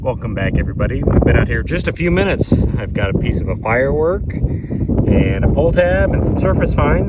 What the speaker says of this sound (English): I'm sorry about the wind. It is a bit windy today